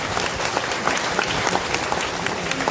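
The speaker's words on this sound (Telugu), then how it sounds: "వారి స్వామిని కూడా ఒక్కసారి చప్పట్లతో అభినందించారు." A crowd at a Sai Baba temple gathering claps for the swami, a steady, even patter of many hands applauding at moderate volume with no voices over it.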